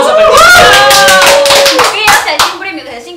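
Brief crisp hand clapping from a small studio group in a Peruvian talk show, a few quick claps rising then tapering off, heard under loud overlapping voices talking.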